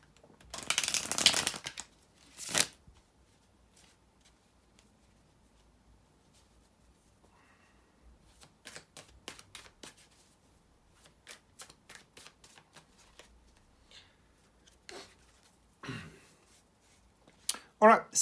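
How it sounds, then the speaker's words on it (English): Cards are shuffled in quick riffling bursts, close and crisp, followed by scattered soft card handling and taps in a quiet room. "bear with me a second, guys, to shuffle the tarot cards,"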